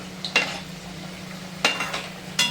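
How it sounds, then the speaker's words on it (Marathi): Cabbage fritters fry in hot oil, a soft, steady sizzle broken by three sharp metal scrapes and clinks of a utensil, close by, with no talking. "कडक तेलामध्येच आपल्याला ही वडी तळून घ्यायची आहे"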